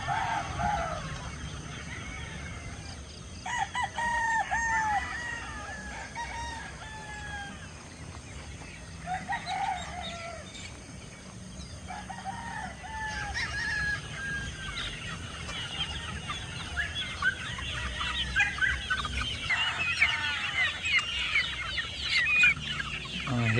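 Chickens and chicks clucking on a farm, with repeated clucks and soft peeping calls at moderate distance, steady over a low background hum.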